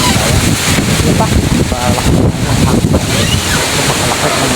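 Loud gusting typhoon wind buffets the microphone, roaring continuously with a rushing, surf-like wash underneath.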